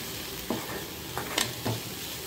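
Sweet potato being mixed with masala in a hot pan for cutlets: a low background sizzle broken by a few short, distinct scraping stirs. No talking.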